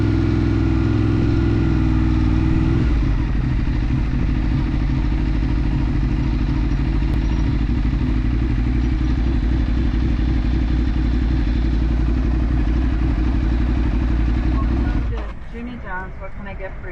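Motorcycle engine idling loud and close in a drive-thru, a steady low rumble that drops and roughens near the end, with some voice mixed in.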